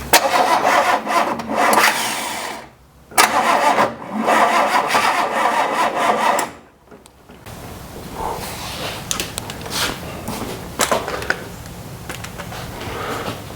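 A 1977 car left unused for 10-12 years cranks over in several bursts, stops between tries, then catches and settles into a rough, uneven idle with occasional revs, loud and close.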